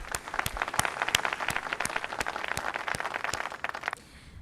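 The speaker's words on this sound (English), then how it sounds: "A round of applause" An audience at an innovation summit inauguration applauds, many hands clapping in a busy, steady patter that thins out and fades near the end.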